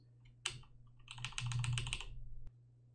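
Computer keyboard keys are pressed in a quick burst of close, clicky taps during a game session, then a single sharp final click, with no talking.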